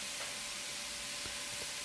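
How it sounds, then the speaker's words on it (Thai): Minced pork is stir-fried over high heat with pea eggplants, torn kaffir lime leaves, sliced chilies and green peppercorns for a spicy Thai stir-fry, giving a steady, moderate sizzle that runs without a break and without any talk. "ผัดต่อจนผักทุกอย่างสุกครับ ตรงนี้ใช้ไฟแรงๆนิดนึงนะครับ"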